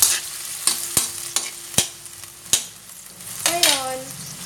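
Iskabetchi sauce frying in a pan, stirred in a series of sharp utensil clanks against the pan over a steady sizzle, ending with a brief sliding scrape.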